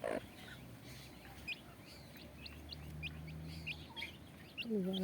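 A chicken gives a few short clucks at the start and again near the end, with faint bird chirps in the quiet outdoor background between them.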